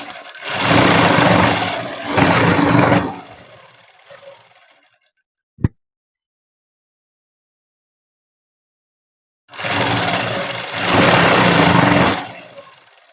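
A sewing machine stitches a one-inch strip of lining cloth onto a child's dress, running in two steady, loud bursts of a few seconds each, separated by a sharp click and a long stretch of silence.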